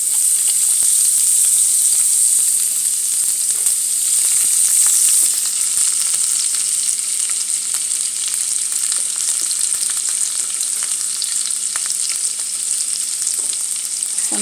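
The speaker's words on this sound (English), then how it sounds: "So I'm gonna fry that for a bit and let them cook until it gets a little bit brown" Garlic and ginger fry in a pan with a loud, steady, close sizzle that runs unbroken throughout, easing slightly in intensity partway through, with no voices.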